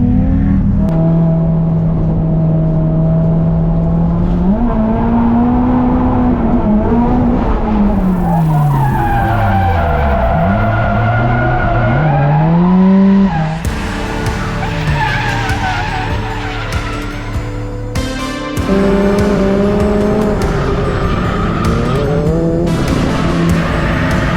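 A car drifts at Ebisu in Japan, its engine revving up and down in long sweeping pitch swings while the tires squeal loudly and continuously through the slides, close and dominant throughout.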